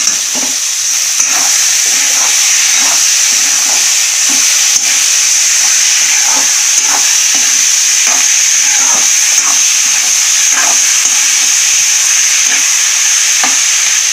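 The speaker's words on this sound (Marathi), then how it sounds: "चांगला हलवून घेऊया आता." Chicken liver masala frying in a pan while being stirred, a steady loud sizzle and hiss with repeated scraping strokes of the spoon, close up and without talk.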